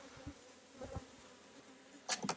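Honeybees at a beehive entrance give off faint, intermittent buzzing, with a few brief louder buzzes of single bees passing close near the end.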